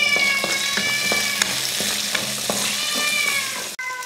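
Small shallots and a clove of garlic sizzle loudly in hot oil in a pan, with the steady crackle of frying broken by a few stirring clinks.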